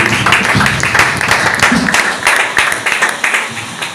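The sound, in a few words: congregation applauding in church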